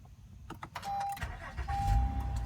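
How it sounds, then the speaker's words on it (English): A 2013 Honda Accord EX-L with a 3.5 liter J35 V6 is started by push button, giving a short rising crank-and-catch that settles into a low, close idle, with a brief electric whine over it. "what you're hearing is Honda's tried and true"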